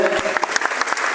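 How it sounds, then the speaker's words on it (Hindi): A burst of loud audience clapping, many hands striking close together in a dense, short wash of applause with a few sharper individual claps standing out. "चलिए जोरदार तालियां हो जाए"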